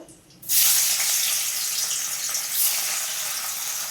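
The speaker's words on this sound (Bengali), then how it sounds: "পনিরগুলোকে একটু কড়া করে ভেজে নেবো" Paneer frying in oil in a wok gives a sudden loud burst of crackling sizzle that then settles into a dense, steady hiss.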